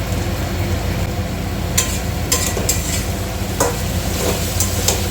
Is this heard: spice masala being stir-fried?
yes